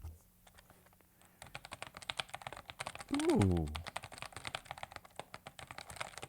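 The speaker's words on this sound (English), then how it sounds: "I'll give you a little bit of ASMR as I click the buttons for fun." Buttons on a keyboard accessory's modifier keys click in quick, irregular bursts after a quiet opening, fairly close and crisp, with a brief exclamation from a voice partway through.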